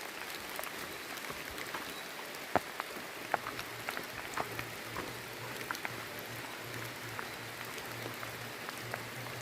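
Heavy rain on the Narmada parikrama pilgrimage route near Panchdhara, a constant hiss of falling water with scattered louder drops pattering on nearby surfaces and a low hum joining partway through.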